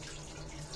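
Water sprays steadily from a Japanese toilet bidet, a continuous close hiss like a running tap with no talk.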